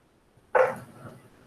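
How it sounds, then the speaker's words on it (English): A single sharp dog bark rings out close by, brief and loud against a quiet room, followed by faint low background noise. "Dog is barking again."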